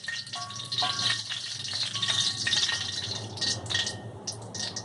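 Slit green chilies fry in hot oil in a home kitchen, a bright crackling sizzle with scattered pops and light clinks of a utensil, steady and close with no talking.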